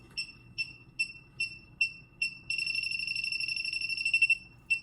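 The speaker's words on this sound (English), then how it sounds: "It should beep faster if there's a leak." An electronic leak detector held at the high-side Schrader valve of a 2013 Toyota Camry's air conditioning emits a thin, high beep at a slow, even pace, then switches to a rapid continuous chirping run, quiet and close.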